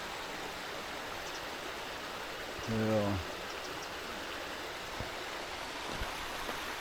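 Vilsa stream waterfall near Trakai: a steady, moderate rush of falling water heard outdoors from nearby, with one brief spoken word partway through.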